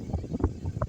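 Miyako electric fan with a modified bearing running at its top speed setting, a close, steady rushing of wind buffeting the microphone with low rumbling gusts, no talk.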